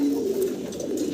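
Single-crested Nasal Tam pigeons, a breeding pair, coo in a steady low, droning rumble up close, continuous with slight swells and no speech.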